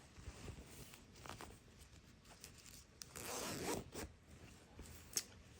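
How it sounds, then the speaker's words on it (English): An invisible zipper being unzipped at a sewing machine during garment sewing, heard as a soft, raspy run of zipper teeth with a longer, louder pull in the middle and a sharp click near the end. "So now I unzip the zipper again."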